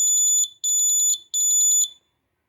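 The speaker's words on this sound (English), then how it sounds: "Now I am giving the gas sensor alert" A gas sensor alarm buzzer on a coal mine safety monitoring system sounds three shrill pulsing bursts, each trilling rapidly, then stops, leaving silence.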